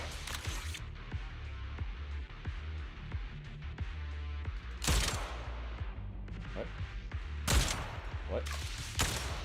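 Rapid bursts of gunfire in Zenless Zone Zero: dense, quick shots crackle throughout, with a few louder, sharper volleys standing out near the end, heard over game background sound and occasional talk.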